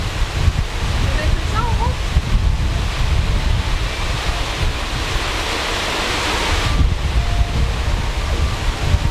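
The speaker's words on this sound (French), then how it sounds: "là on a pluie, vent, on voit plus rien" Heavy rain and gusting wind in southern Cambodia, a steady loud roar of downpour with buffeting wind noise against the microphone throughout, brief faint voices in the background.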